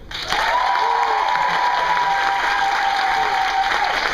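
An audience in a lounge venue at a live comedy podcast event responds with a loud, continuous wash of applause and crowd noise that fills the whole stretch, with a faint steady tone underneath.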